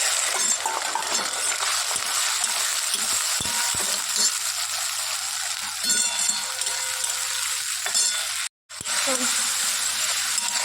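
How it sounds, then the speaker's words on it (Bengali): Prawns frying in oil seasoned with radhuni, dried red chili and garlic, giving a steady close hiss and crackle throughout, broken by a brief drop-out near the end. "আর চিংড়ি মাছটা একটু ভেজে নিই"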